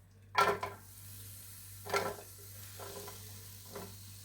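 Chopped onion goes into a pan for a Moroccan-style seafood paella, giving a loud burst of sizzling and stirring, then softer stirs and scrapes come at intervals against a steady background hum.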